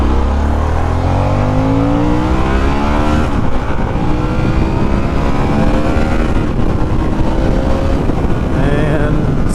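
A Harley Davidson Sportster S motorcycle on the road, its engine roaring loud and continuous with rising and falling pitch as it accelerates and shifts, wind rushing over it.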